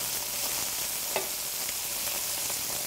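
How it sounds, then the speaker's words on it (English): Prawn and bacon skewers fry steadily in a pan, a continuous close hiss of sizzling fat with a few small pops and crackles throughout. "Keep watching the bacon so when it goes nice and brown you rotate it over"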